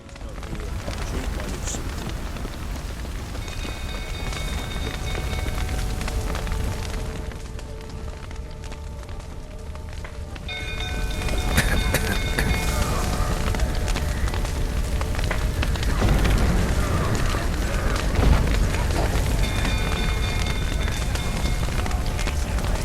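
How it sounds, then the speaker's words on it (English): Spreading fire in The Witcher 3, a continuous roaring rush of flames that grows louder partway through, with game music tones and a voice speaking over it. "Shit, fire's spreading."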